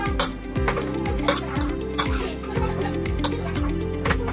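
Meat is stirred with oil and flour in a bowl, with soft, wet mixing and light scraping against the dish, repeated in a steady rhythm over background music.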